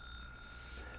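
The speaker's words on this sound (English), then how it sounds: "a jingle bell, a nice little ring away" A small jingle bell rings steadily in a soft, shimmering tone, faint and alone with no talk, in a Christmas sleigh-bell setting.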